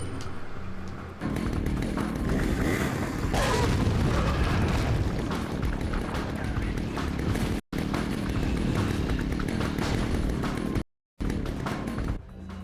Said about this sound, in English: Now is grenade time.